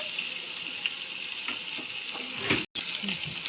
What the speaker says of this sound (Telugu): ఈ నూనెలో బాగా వేగితేనే ముక్క గట్టి పడుతుంది